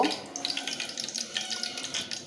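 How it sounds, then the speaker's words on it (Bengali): Oil heats in a pan and sizzles with a soft, fizzing crackle that flickers in quick small bursts throughout, fairly faint and close by, with no talking. "ওদিকে তেলগুলো গরম হইতেছে এই জন্য শব্দ"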